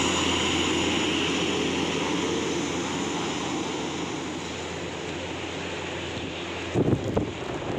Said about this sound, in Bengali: আমাদের বিমানটি এয়ারপোর্ট থেকে চলে যাচ্ছে। এখনই এটা রানওয়ের দিকে যাবে